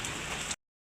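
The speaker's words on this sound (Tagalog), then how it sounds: "Bali umuulan na." Steady rain falling on a surface in an outdoor Philippine pigeon loft, a dense even patter that lasts about half a second and then cuts to silence.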